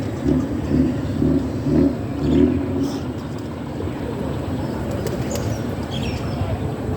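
Racing pigeons and native pigeons cooing nearby in low, throaty rolls, strongest early on, with faint wing movement and a low background hum.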